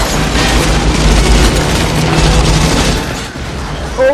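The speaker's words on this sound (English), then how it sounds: "These explosions." Heavy action-movie explosions from the 1997 film Con Air, a dense continuous roar of blasts and booms with gunfire-like crackle, loud throughout and easing slightly near the end, with a voice faintly over the mix.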